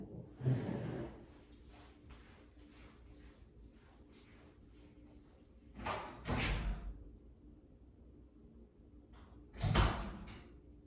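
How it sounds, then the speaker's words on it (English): An indoor door being opened, with a few separate loud knocks and thuds spaced several seconds apart against a quiet room background. "let me get the door."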